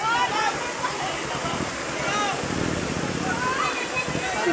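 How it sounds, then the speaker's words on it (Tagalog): Flood water rushes hard in Davao de Oro, where a Hilux pickup was swept away, making a dense, steady roar that stays loud and close throughout, with excited voices shouting over it. "Kakusog yun sa baha yun."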